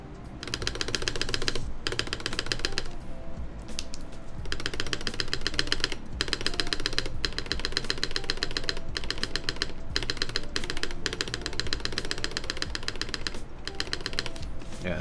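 Steady typing on an AeroBoard 70 mechanical keyboard while its stabilizers are checked, giving a dense run of clacky keystrokes with occasional brief pauses. The sound is close and fairly even for the whole stretch.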